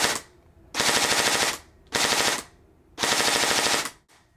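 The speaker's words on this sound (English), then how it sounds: "So now my gun will shoot 5-round bursts." Airsoft gun fitted with a Burst Wizard mosfet firing four rapid five-round bursts, each a sharp mechanical rattle separated by short pauses, close and loud.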